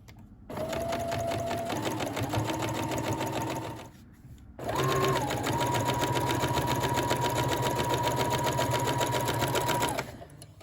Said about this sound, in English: we stitch the front to the back at the shoulders